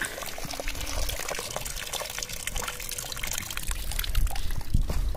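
Water gushes and splashes from a hand-operated borewell pump as goats drink in hot weather, a close, continuous pouring rush with rising and falling surges and a faint low hum beneath; no clear speech.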